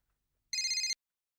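A telephone rings once in a short electronic burst in a quiet indoor home, the sitcom Taarak Mehta Ka Ooltah Chashmah, with no talk over it.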